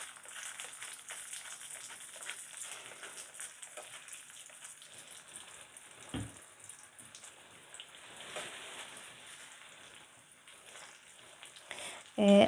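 Hawawshi bread loaves stuffed with meat frying in oil in a home pan, a steady, soft crackling sizzle that continues throughout with a brief clatter near the end.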